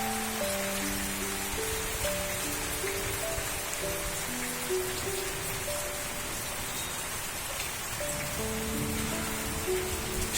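Heavy rain falling in São Paulo state, a dense steady hiss of drops on surfaces lasting the whole stretch, with faint sustained musical tones underneath and no talking.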